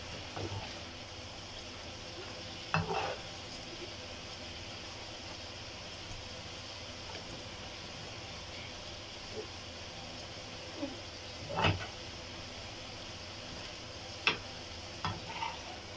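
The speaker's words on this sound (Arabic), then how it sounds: "اللحمه كده بدات تحمر معايا" Meat browning in a pot for a lentil stew with vegetables gives a steady, low sizzle, broken by a few sharp clinks and scrapes of stirring.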